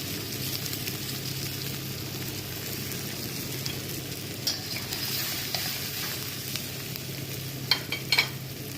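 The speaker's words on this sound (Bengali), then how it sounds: "প্রথমেই 1 কাপ পেঁয়াজ কুচি দিয়ে দিচ্ছি এবং পেঁয়াজগুলো নরম হয়ে আসা পর্যন্ত ভেজে নিচ্ছি।" Chopped onions sizzle steadily in hot oil already used for frying prawns. The crackle is continuous and close, with a few sharper pops near the end and no talking.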